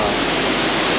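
Blackwater Falls in Davis, West Virginia, a high waterfall, pours as a loud, dense, unbroken roar of rushing water close by, with nothing else heard.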